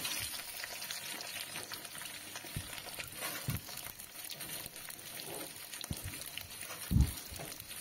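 Capsicum and onion fry in a hot wok for chilli papaya, giving a steady low sizzle with a few scraping thuds from stirring, the loudest near the end.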